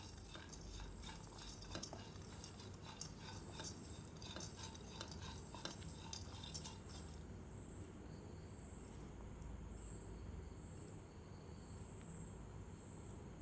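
Cashews and peanuts roasting over a low flame in a pan for healthy laddoos, stirred with a spoon that gives a continuous soft scraping and light rattling, fairly quiet under a steady hiss.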